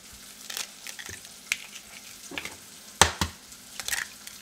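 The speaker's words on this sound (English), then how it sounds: "take your eggs and just crack them in a bowl" Three eggs are cracked into a bowl near the stove: sharp close taps and cracks come in a loose sequence, with the brightest crack near the end, against a faint kitchen background.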